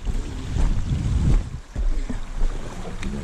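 Struck Magnatrac RS1000 compact track loader engine cranking over, a loud, steady low mechanical churn with no speech.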